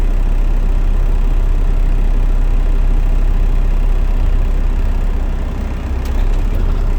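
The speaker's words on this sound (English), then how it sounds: "I'm going to put my truck in first gear. I'm going to release my tractor brake. I'm going to let off the clutch." A tractor-trailer truck with an Eaton 10-speed transmission rumbles in first gear, a loud, steady low diesel drone that holds nearly unchanged throughout, dipping slightly near the end with no voices over it.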